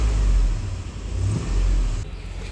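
Chevrolet Avalanche (2002) engine revving after a catalytic converter patch repair; deep exhaust rumble swelling in two close blips, loud and near with no talk.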